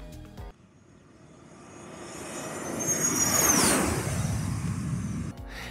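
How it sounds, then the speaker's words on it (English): A Cessna Citation M2 business jet makes a very low pass, its engine roar swelling from faint to loud with a whining high tone as it sweeps overhead, then fading away; no voices. "A Cessna Citation M2 pilot performs a really low pass."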